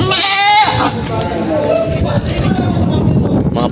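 Goats bleat repeatedly at a busy livestock market in Padre Garcia, Batangas, with loud overlapping cries up close under steady crowd chatter and people talking throughout.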